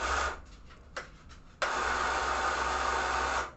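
A small electric motor drives an HO scale funicular railroad car, whirring in a few brief stuttering bursts before settling into a steady, close, moderately loud hum that cuts off near the end.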